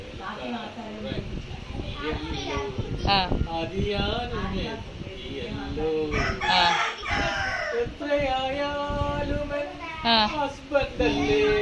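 Backyard chickens with their chicks cluck and a rooster crows repeatedly, close by, mixed with steady people talking throughout.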